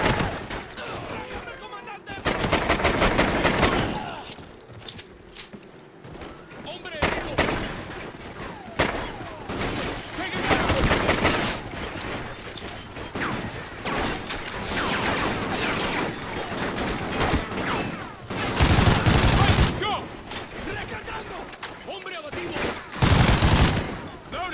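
Video game firefight with repeated bursts of loud gunfire and rapid volleys throughout, rising and falling in dense clusters, with voices talking between and over the shots.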